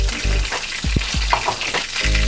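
Butter melts in a pan, sizzling with a steady fry hiss, with a few low scraping thuds of a utensil against the pan partway through; no voices.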